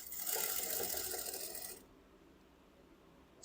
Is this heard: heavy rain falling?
no